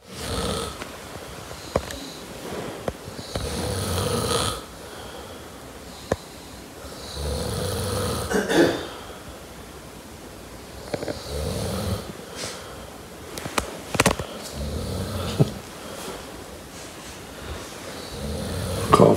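Someone sleeping during a weekend trip in Wales snores in slow, steady cycles of rasping breaths, close and fairly loud, with no talking over it.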